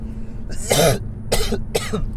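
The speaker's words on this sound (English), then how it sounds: "so now I'm coughing again" Three harsh coughs, one long burst followed by two shorter ones, close and fairly loud over a low steady hum.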